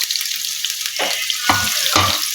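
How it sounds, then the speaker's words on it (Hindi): Dried red chilies frying in oil over a low flame, a close continuous sizzle with a few louder crackling bursts near the end. "और ये जो मेरे पास सूखी हुई लाल मिर्च है ये डाल दूंगी।"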